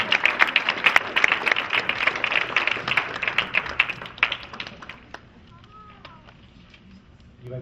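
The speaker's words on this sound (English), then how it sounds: "Give the Lord a clap offering." Church congregation at a 50th wedding anniversary service gives a hearty round of clapping for about four seconds, then the claps thin out and die away, leaving a quiet room with a voice.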